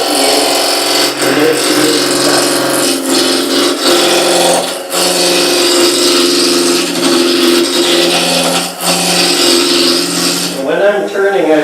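A roughing gouge cuts into spinning wood on a lathe during a woodturning club demonstration, giving a loud, continuous rough buzzing whine that runs almost unbroken close by and changes near the end.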